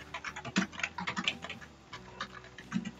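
Rapid, uneven typing on a computer keyboard while filling in contact details in Microsoft Word, with close, crisp key clicks in quick bursts and no one speaking.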